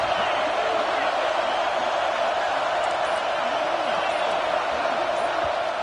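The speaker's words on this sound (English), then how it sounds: "This crowd is trying to inspire this defense to make a big red zone stop." A packed football stadium crowd roars as the defense tries for a red zone stop, a loud continuous wall of noise with scattered shouts and no letup.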